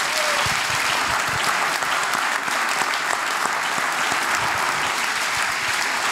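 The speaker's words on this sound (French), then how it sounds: "Je propose qu'on les applaudisse également." An audience applauds steadily and loudly throughout, a dense wash of clapping in a hall for guests at a public discussion of a corruption trial.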